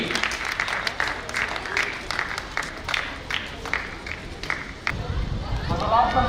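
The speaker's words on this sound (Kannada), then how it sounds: "ತಮ್ಮ ಜೋರಾದ ಚಪ್ಪಾಳೆ ಬರಬೇಕು." An audience at a state-level Special Olympics athletics championship prize announcement claps in a steady patter of applause, with a voice and crowd chatter mixed in.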